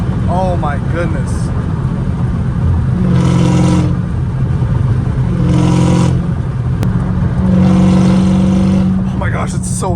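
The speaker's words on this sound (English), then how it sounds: "it's so freaking loud against this wall. Oh, that freaking whine" A loud straight-piped supercharged V8 exhaust of a Dodge Hellcat Redeye rumbles nearby against a wall as the engine is revved several times, each rev swelling with a high supercharger whine, while people talk excitedly over it.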